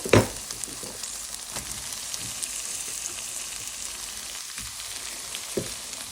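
Potatoes added to mola fish frying in a pan, a steady close sizzle with a sharp clatter at the start and a few soft utensil knocks afterward, no voices.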